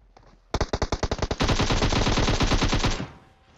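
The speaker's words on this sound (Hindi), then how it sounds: "कोई और एम सात छः दो पटकाता है तो उस गन की आवाज़ सौ गुना ज़्यादा आती है" Rapid bursts of M762 assault rifle fire in PUBG Mobile, loud and close, first as quick distinct shots and then as a dense continuous stream.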